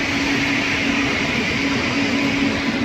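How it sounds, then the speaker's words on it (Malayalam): Jamnagar–Tirunelveli Express pulling into a station, a steady loud rumble of rolling stock with a sustained hum, no voices. "തൃശ്ശൂർ സൈഡിൽ നിന്ന് ജാംനഗർ തിരുനെൽവേലി എക്സ്പ്രസ് ജസ്റ്റ് കയറി വരുന്നുണ്ട്"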